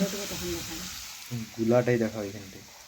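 Dim pitha batter dropped from a small ladle into hot oil gives a soft, steady frying sizzle, while a person talks over it throughout.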